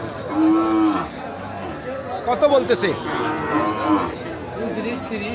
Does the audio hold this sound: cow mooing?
yes